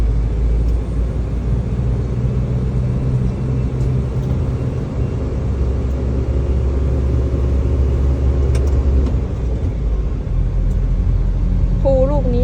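A heavy truck loaded full of sand drives in third gear, its engine a loud, steady, continuous rumble throughout, with a voice speaking over it.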